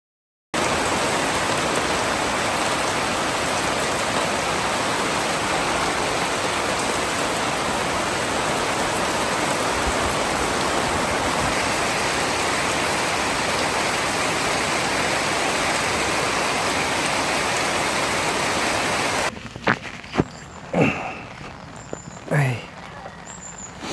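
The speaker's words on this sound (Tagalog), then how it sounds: "Grabe ang lakas ng ulan kanina madaling araw." Heavy rain pours steadily at night at a campsite at the foot of Mount Arayat, a loud, unbroken hiss that cuts off near the end, followed by a few faint knocks and rustles.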